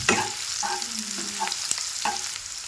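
Chopped onion fries in oil with bay leaves in a pan, a steady close sizzle broken by several scraping stirs of a spoon at irregular intervals, with no talking.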